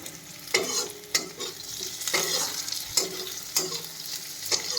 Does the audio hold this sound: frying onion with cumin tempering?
yes